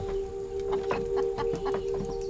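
Chickens cluck in a village, with a rhythmic run of short, close clucks over a steady tonal background hum.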